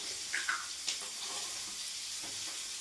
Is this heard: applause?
no